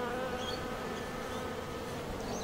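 Restless bees drone in a dense, continuous buzz that fills the scene evenly and stays close, with no voices over it.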